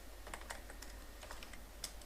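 Steady typing on a computer keyboard while writing C code: a continuous run of light, close key clicks with a few sharper taps, over a low constant hum and no talk.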